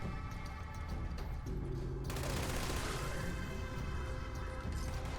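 An explosive light machine gun firing in Fallout 76, a loud continuous burst of rapid gunfire with blasts and crashing impacts that fills the whole stretch.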